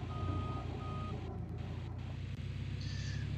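Reversing beeps from a bulldozer in the Gold Rush game, a steady repeating electronic beep over a loud, continuous low engine drone, with no talking.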